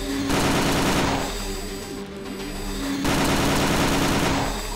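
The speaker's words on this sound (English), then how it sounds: "It definitely is a minigun." Minigun fire in a boomer shooter game: two sustained bursts of rapid, buzzing automatic fire, loud and close, separated by a short lull with a lingering whir.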